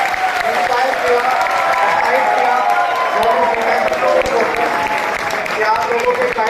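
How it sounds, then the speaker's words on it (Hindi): An audience claps loudly and continuously for doctors at a health talk, dense sustained applause filling the hall from start to finish. "सभी डॉक्टर्स के लिए मैं बहुत ज्यादा जोरदार तालियां चाहूंगा"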